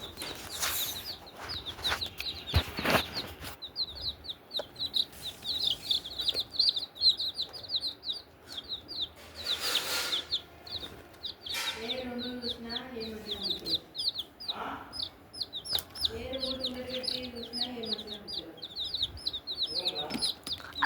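Young chicken chicks chirp in rapid, high, continuous peeps throughout, close to the microphone, while a voice talks briefly now and then.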